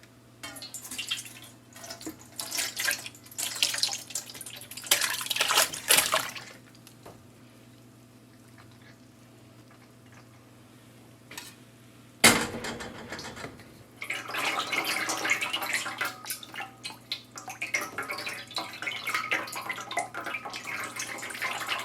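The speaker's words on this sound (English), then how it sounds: "I'm going to strain the juice that I let steep overnight" Juice steeped overnight from peach peels and pits is poured through a strainer, producing splashy pouring and trickling in uneven bursts, with a quiet pause in the middle, then a sharp knock and renewed steady liquid pouring and dripping.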